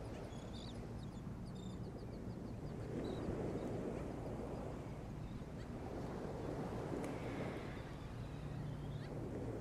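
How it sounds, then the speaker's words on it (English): Soft ocean waves swell and recede in slow surges, with faint bird calls and a low wind-like rush throughout. "Noticing the sounds of the ocean waves and birds chirping."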